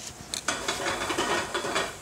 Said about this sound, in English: you hear it just sizzling